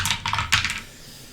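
Five dice rolled during a Zombicide: Invader board game session: a quick rattling clatter of several bursts over about a second, close and fairly loud, with no voices.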